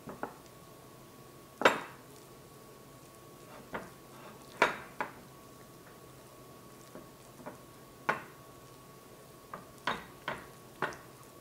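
A feta and zucchini tart filling is mixed in a bowl, with scattered sharp spoon-on-bowl clinks and soft squishing over a quiet background.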